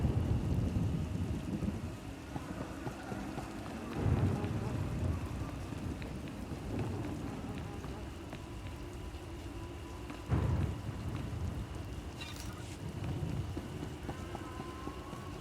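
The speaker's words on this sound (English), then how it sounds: "Hard to track them through the storm. Rain's wiped out the trail." Thunderstorm with steady heavy rain in the video game SWTOR, a continuous rainfall wash with low rumbling thunder swells, under occasional faint speech.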